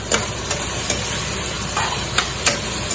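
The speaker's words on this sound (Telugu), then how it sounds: "లవంగాలు, ఇలాచీలు, పట్ట వేసుకుందాం. ఇలా వేసుకొని ఇలా కలుపుకుందాం" Cloves, cardamom and cinnamon frying in hot oil for chicken biryani, a steady loud sizzle with a few light spoon knocks against the pan as the spices are stirred, no voices.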